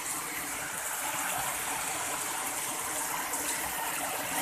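Floodwater rushes steadily through Kanjirapally after a house wall collapsed, a continuous broadband roar of flowing water close by with no breaks or talk.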